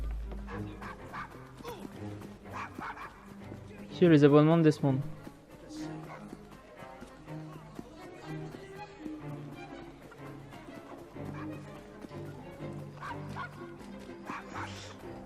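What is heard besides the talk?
dog barking in a video game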